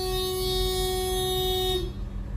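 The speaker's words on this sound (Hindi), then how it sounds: "लोग बाहर हॉर्न मारते हैं" A long, steady car horn blares outside an apartment for about two seconds, then cuts off, leaving traffic rumble.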